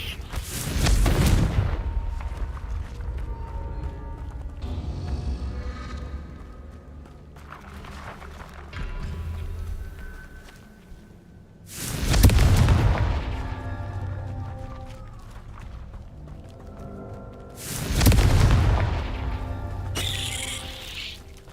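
Three heavy explosions from the Confringo blasting spell in Hogwarts Legacy boom out at spaced intervals, each a loud burst trailing into rumble, with quieter game effects and faint tones between them.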